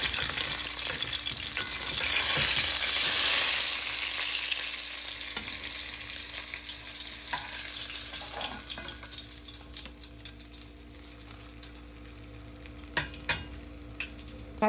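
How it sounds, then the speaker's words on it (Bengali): Koi fish frying in a pan, a steady loud sizzle that is strongest early on and eases off later, with a few sharp clinks and spatters near the end. "মাছ আমার ভাজা হয়ে গেছে"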